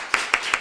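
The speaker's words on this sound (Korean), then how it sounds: "우리 박수로 환영하도록 하겠습니다" Three sharp, evenly spaced hand claps ring out close and loud in a church congregation during a New Year thanksgiving Sunday service, with no voices over them.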